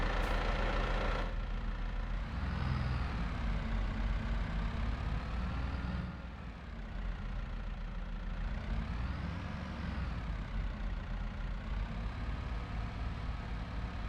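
A large tractor idles in a farming game beside a shed, a steady low rumbling drone that stays close and even. The tone dips and swells slightly, with no talking over it.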